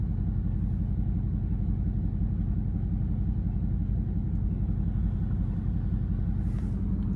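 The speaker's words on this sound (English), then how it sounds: "This is actually my very first POV in track mode." A 2019 Dodge Charger R/T engine running in track mode gives a steady, deep low rumble heard from inside the car, constant and moderately loud, with no talking.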